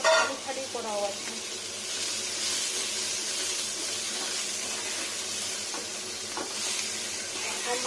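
Onion, garlic and green chili sizzle and fry in a pan for a fish curry, a steady broad hiss with occasional stirring clinks, fairly close and continuous throughout.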